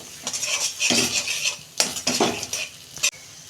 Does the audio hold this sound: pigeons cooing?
no